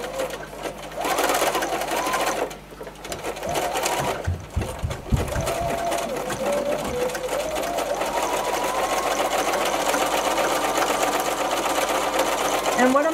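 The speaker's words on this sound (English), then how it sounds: "we're going to go to the sewing machine and we're going to sew it down using a zigzag stitch" Domestic sewing machine running a zigzag stitch across towel fabric for a doll's spa wrap, a rapid whirring motor with brief pauses and restarts, a voice speaking over it.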